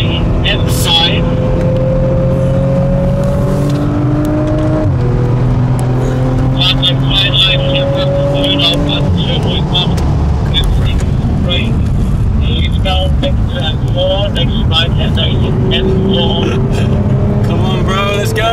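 An Audi R8 engine on a race track, loud and close as it revs up through rising gear pulls with brief drops at shifts, steady roar throughout while a voice talks over it.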